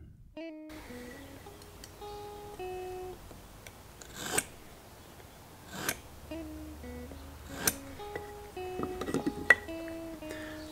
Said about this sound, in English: I like nice deep knife lines, so you'll see me do 3 or 4 swipes